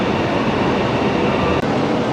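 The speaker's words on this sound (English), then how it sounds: "And our train has just arrived." A Chinese high-speed train arriving at a station gives a steady, loud, broadband rumble, with a brief dip near the end of the short stretch.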